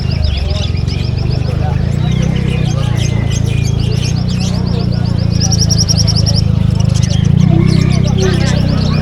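Caged birds chirp and tweet at a bird market in Palembang, with quick high calls over a dense, loud crowd din and people talking nearby.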